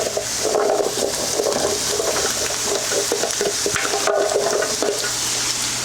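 Potatoes dropping into onions already frying in hot fat for a Spanish tortilla, giving a steady close sizzle and bubbling with some stirring scrapes, with no talking.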